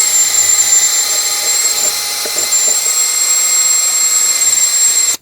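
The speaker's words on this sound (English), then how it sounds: "Gently clean out the mounting area with a wire wheel or a wire brush" A wire wheel on a power tool cleaning the track bar bushing mounting area of a 2011-2016 Ford F-350, giving a steady, high, sustained whine with a faint grinding texture that cuts off abruptly at the end.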